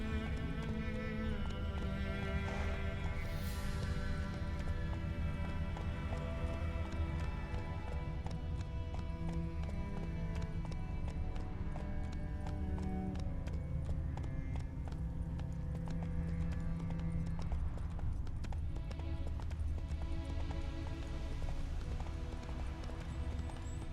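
Rhythmic hoofbeats of a galloping horse in a video game clop continuously at a steady pace over in-game music and ambience, moderately loud throughout with no talk.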